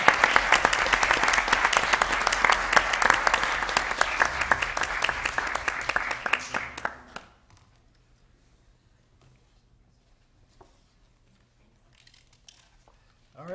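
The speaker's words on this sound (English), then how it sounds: "I think we can applaud." Applause at a historic preservation commission meeting in Lake Forest, a crowd clapping steadily for about seven seconds before it cuts off into near silence, with a few faint room noises afterward.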